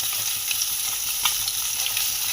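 Soft parshe fish frying in oil in a kadai, an even close sizzle with fine crackles and no one speaking.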